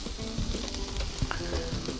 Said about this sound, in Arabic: طنجرة كبيرة أحسن حتى تقدروا تتحكموا بكمية السبانخ اللي عندكم